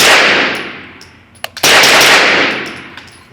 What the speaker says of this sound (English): the follow-up shots are awesome with this gun